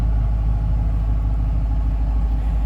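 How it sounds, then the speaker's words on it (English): A 2008 Ford Mustang Saleen H281 supercharged Dan Gurney Edition sits idling with a steady, loud, deep rumble and no break. "the car has a nice little rumble to it"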